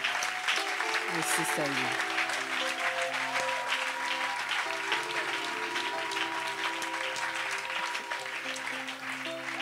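A church congregation applauds the Lord in steady, dense clapping that fills the room throughout, with singing or voices and sustained tones running underneath.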